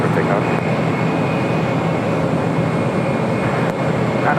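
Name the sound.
airplane taking off from runway 25 right at LAX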